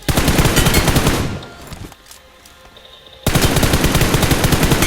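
Automatic gunfire from a weapon in PUBG Mobile rattles in rapid, loud bursts, a long stream of shots that stops for a quiet pause before another sustained burst resumes.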